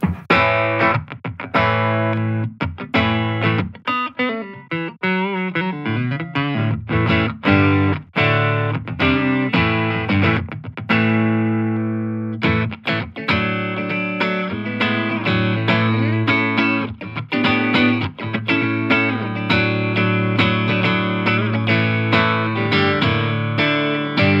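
A Telecaster through the clean channel of a Line 6 Catalyst 60W combo amp, picked and strummed in loud chords and single-note phrases with brief pauses, played solo without talk.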